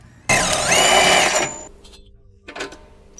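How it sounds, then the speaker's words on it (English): An impact wrench with a deep 17mm socket rattles off a shock-to-knuckle bolt on a Honda Civic FK, one loud continuous burst of about a second and a half, then a brief shorter blip, close up. "The deep 17mm socket with an impact to remove the shock to knuckle bolt."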